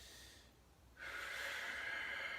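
Deep inhale drawn in during a yoga stretch for hip and hamstring opening, a close, airy breath that starts after a brief pause and then swells and holds steady.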